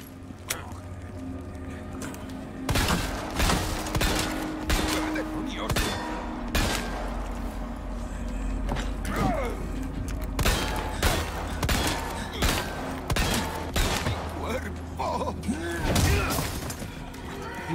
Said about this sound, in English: Wasting a lot of my pistol rounds, man.